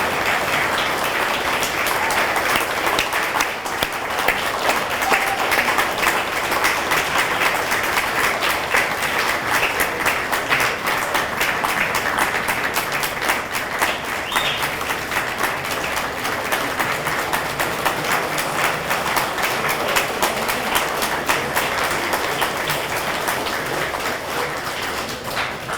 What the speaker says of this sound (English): Let's give them all a big round of applause again, please